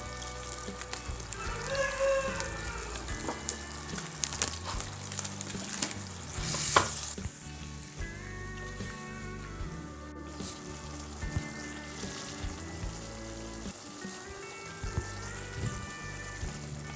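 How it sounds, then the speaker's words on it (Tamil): Tomatoes sizzle and fry steadily in a pan for idli sambar, with occasional stirring scrapes and clinks, continuous and close, with background music playing throughout. "தக்காளி நல்லா வதங்கிடுச்சு"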